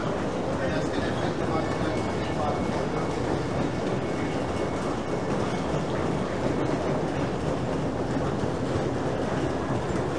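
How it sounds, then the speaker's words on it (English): Steady rumbling of an air-conditioned Elizabeth Line train to Heathrow Airport rolling along the rails, a continuous loud roar with rhythmic clatter throughout, heard from inside the carriage. "It's a very comfortable train. It's nice and air conditioned."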